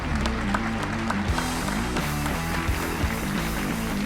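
Audience applause at the close of a retail-industry panel at a conference event, a dense, steady wash of clapping that holds for several seconds, with a tonal musical bed sounding underneath.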